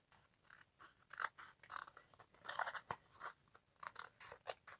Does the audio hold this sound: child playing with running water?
no